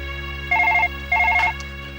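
A telephone rings in a hospital drama scene: two short electronic trilling bursts separated by a pause, loud and clear over a steady low background hum, with no one speaking.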